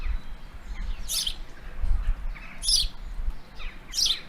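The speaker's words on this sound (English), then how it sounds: "that's house sparrow chirping away, a couple of female house sparrows" A couple of female house sparrows chirp in a garden: three short, bright calls spaced about a second and a half apart, moderately close, over a steady low outdoor rumble.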